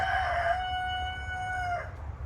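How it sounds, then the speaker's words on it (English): A rooster crowing nearby, one long drawn-out call of about two seconds with a clear tonal wail that fades at the end over low background hum, no talking. "Ignore that stupid ass rooster."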